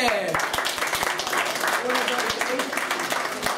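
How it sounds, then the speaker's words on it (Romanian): Audience applause at a comedic magic show, a dense wash of clapping that runs steadily throughout with a few sharper hand claps standing out and a voice briefly heard over it. "1, 2, 3, aplauze!"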